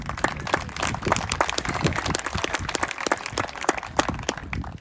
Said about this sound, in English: So round of applause for them, please.